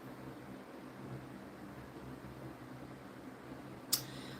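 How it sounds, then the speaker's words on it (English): Steady, faint whooshing hum of a running fan fills the background throughout, with one brief sharp tick near the end. "I'm sorry if you hear the fan in the background."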